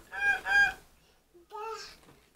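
A child imitating a goose during an animal-sounds game: two quick nasal honks, a pause, then one longer honk, close and clear with no other talk.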